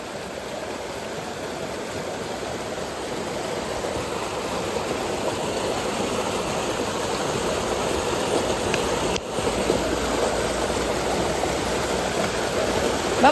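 A clean mountain stream flows through pastureland, a steady broadband rushing of water that stays loud and continuous throughout, with no voices over it.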